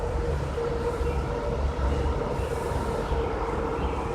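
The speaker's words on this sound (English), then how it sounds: "Right now I have road noise though from the turnpike." Steady, continuous wash of road traffic from a turnpike, a broad even roar heard at a distance with no distinct passes and no talking.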